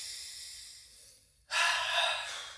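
A person draws in a sharp, loud, audible breath halfway through after a quieter hiss, with the inhale close and clear and no talking over it.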